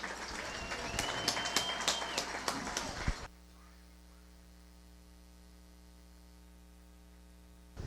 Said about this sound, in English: Let's give another round of applause for your 2020 Oak Ridge High School Sports Hall of Fame inductees.